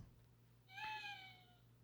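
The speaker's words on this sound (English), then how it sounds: "No, that's definitely a cat. That's not an owl." A single drawn-out meow from a cat, faint and somewhat distant, rising then slowly fading over a low steady hum.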